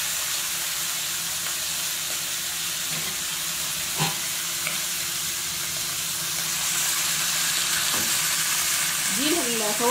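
Liver sizzles steadily in a frying pan as part of a mixed offal fry-up, with a dense, even crackle throughout and a few soft stirring knocks near the middle.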